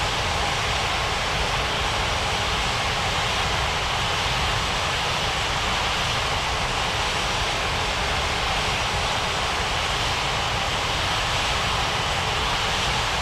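An AirAsia airliner taxiing toward the runway, heard as a steady, broad jet engine roar that holds evenly throughout without a break.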